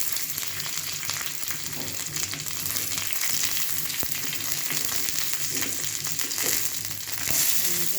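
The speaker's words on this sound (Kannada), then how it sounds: "ಇದನ್ನು ನೀಟಾಗಿ ಬ್ರೌನ್ ಕಲರ್ ಬರೋ ತನಕ ಫ್ರೈ ಮಾಡೋಣ" Chillies, curry leaves, garlic and onion fry in hot oil with mustard seeds, a steady close sizzle broken by occasional stirring scrapes throughout.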